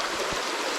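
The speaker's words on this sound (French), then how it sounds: "on est à la rivière là" A river flows as a steady, dense rush of water that fills the whole moment, close by and with no other sound standing out.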